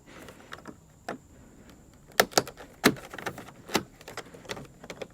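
A plastic door latch clip on a GM SUV or truck front door is slid into place, giving several sharp, close clicks and plastic snaps in an irregular cluster.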